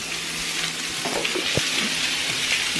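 Meat searing in a hot pan gives a steady, loud broadband sizzle with a few light knocks and scrapes, and no voices.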